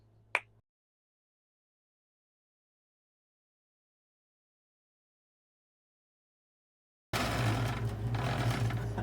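An Elna Supermatic sewing machine stitching a quilt gives a brief, steady, close mechanical whirr at the end, after a single soft tap and a long stretch of silence.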